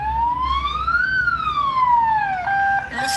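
An ambulance siren wails loud and close, one steady tone sweeping up, then gliding down and jumping between pitches near the end, with no voices over it.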